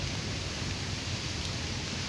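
Rain falling outdoors during a trip, a steady, even hiss of drops with no break or swell for the whole stretch and no voices over it.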